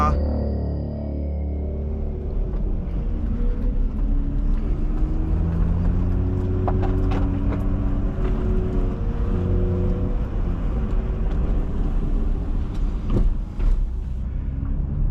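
A BMW M2 F87 engine drones steadily on a lap of the Nürburgring, its tone climbing and falling as it revs up through the gears, loud and close from the cabin.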